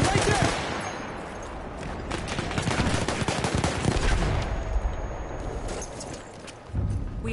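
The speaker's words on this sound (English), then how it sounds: "Machine gun right there." Video game machine gun fire rattles in dense, rapid bursts, loud and close, with a few heavier blasts mixed in before it briefly thins out. Speech is faintly audible underneath.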